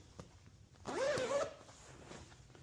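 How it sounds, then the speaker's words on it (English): Opening a patio furniture cushion cover, a zipper is pulled in a single quick rasping run of about half a second, close up, in an otherwise quiet space. "First thing I'm going to do then is unzip this"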